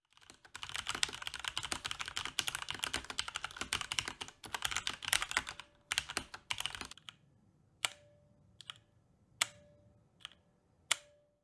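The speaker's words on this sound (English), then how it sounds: "Cherry switches are really loud, they're scratchy, and they ping really bad." Fast, steady typing on a mechanical keyboard with loud Cherry switches, a dense clatter of keystrokes for about seven seconds, then a few isolated sharp key clacks with a metallic ping, close up and without speech.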